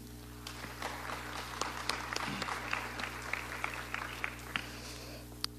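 Audience applause at a gang-studies conference in Juliaca, Peru: sparse, scattered claps from a modest crowd over a steady hum, moderately distant and fairly faint throughout.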